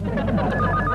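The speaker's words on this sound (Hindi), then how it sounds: "जाओ, जल्दी से फोन उठाओ।" A telephone rings loudly and steadily for about a second in an indoor comedy scene, with no talking over it.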